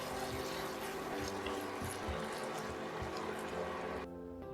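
Water runs steadily from a tap, splashing into a pot with a broad rushing hiss, then stops abruptly just before the end.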